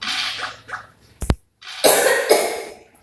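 A person coughs openly without a tissue or mask, giving a sharp cough and then two rough, close bursts after a brief quiet gap.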